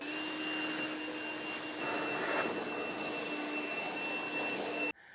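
A leaf blower blasts debris off rocky ground at a sawmill site with a loud, steady roaring whoosh and a high whine on top, close by, ending abruptly.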